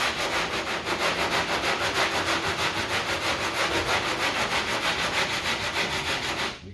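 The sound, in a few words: sanding bondo body filler over a car dent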